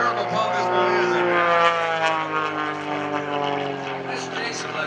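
An aerobatic propeller airplane flown by Jason Flood at the 2013 New Garden Airshow drones loudly overhead, its engine pitch steadily shifting as it maneuvers, with faint crowd sounds beneath.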